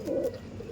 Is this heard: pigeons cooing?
yes